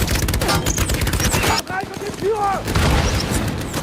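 Sustained gunfire in a film battle scene as a small group holds its position against a much larger force: loud, dense bursts of rapid shots and booms over nearly four seconds, with voices breaking through in the middle.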